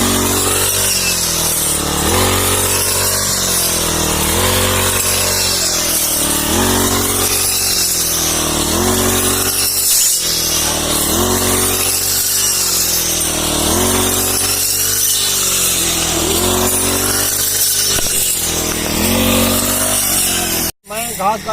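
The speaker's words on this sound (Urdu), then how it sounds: "میں گھاس کاٹنے کی ٹرائی کرتا ہوں اور اس سے مشین پکڑ کے کوشش کرتا ہوں" Petrol grass cutter engine drones steadily and loudly for the whole stretch, with a regular pulsing rise and fall in pitch as it works, cutting off abruptly near the end.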